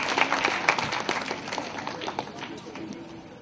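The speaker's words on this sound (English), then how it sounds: "Give her a big round of applause." A classroom audience at a student interview-preparation session applauds a volunteer, with a burst of clapping that starts loud and gradually thins and fades over a few seconds.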